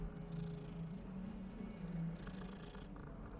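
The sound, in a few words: cat purring in the video game Hogwarts Legacy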